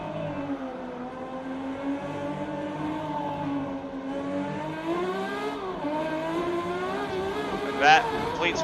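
Engine of a 1970 Ferrari 512S race car lapping the 1967 Nurburgring GP circuit in Assetto Corsa, a steady loud howl rising and falling through gear changes, with a short sharp burst near the end.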